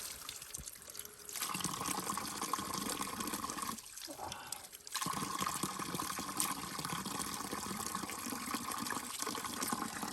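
Water from a spring in a mountain village pours steadily into a mug set under the flow, a continuous splashing trickle that briefly drops away and then resumes, with no talking.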